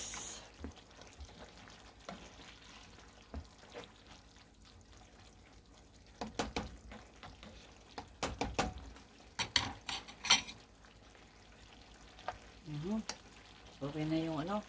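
Beef afritada in a pan is stirred, a steady low sizzle beneath scattered scrapes and clacks of the spoon against the pan, with some quiet talk in the background.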